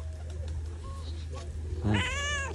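A cat gives one short, close meow near the end, rising over a low background hum on a village farm.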